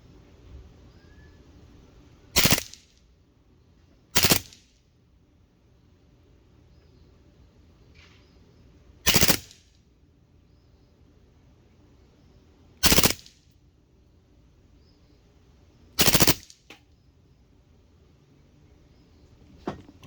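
A Crosman PFAM9B BB gun fires five sharp, loud shots at an apple, spaced a few seconds apart over a quiet background.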